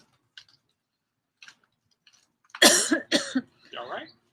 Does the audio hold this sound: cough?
yes